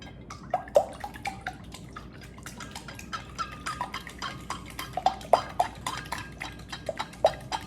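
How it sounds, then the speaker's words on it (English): Egg and half and half whisked in a bowl, heard as irregular light clinking taps and wet sloshing, close and fairly quiet with no talk. "All right, so just whisk these two together."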